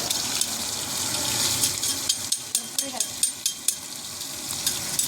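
Food frying in hot oil in a pan at a rooftop family picnic: a steady, close sizzling hiss, with a run of rhythmic scraping clicks from a spatula stirring in the second half.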